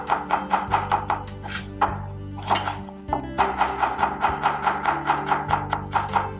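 Quick, rhythmic knife chops on a cutting board as fresh shallots are roughly sliced, a close and crisp run of evenly spaced taps with a short pause midway.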